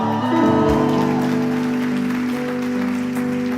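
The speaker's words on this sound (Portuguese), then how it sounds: "Tô vendo quem tá aplaudindo," A church congregation applauds during a sermon, a steady wash of clapping that holds for several seconds at close range, with sustained tones in the background and no speech over it.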